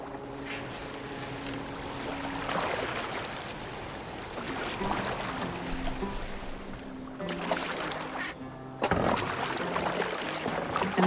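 Water sloshes and laps steadily against a Viking boat in Assassin's Creed Valhalla, a continuous wash of splashing and flowing water with a tonal hum beneath, growing louder and brighter near the end.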